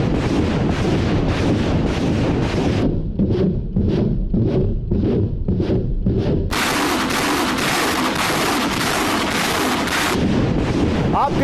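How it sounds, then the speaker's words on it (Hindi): A Russian MLRS rocket artillery barrage thunders in a steady series of rapid launches, loud and continuous with a windy, roaring texture, as rocket after rocket fires without pause and no voices are heard. "एक नहीं दो नहीं 43 MLRS अटैक रूस की तरफ से"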